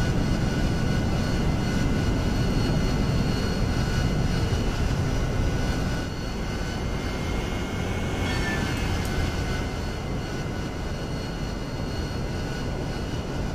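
Harrier jet engines roaring on an aircraft carrier deck in the DCS World flight simulator, a loud continuous turbine rumble and whine that eases slightly midway.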